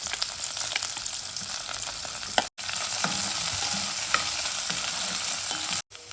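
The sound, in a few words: frying onion, green chilli and curry leaves in oil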